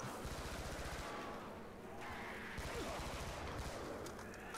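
Rapid bursts of gunfire from a gun in Call of Duty Zombies, a dense, continuous rattle of shots mixed with game effects throughout, loud and close.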